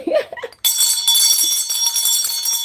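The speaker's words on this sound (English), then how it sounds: "I'm gonna ring the bell." A bell struck once, its bright ringing tone starting suddenly and holding steady with a shimmering sustain after a short spoken bit.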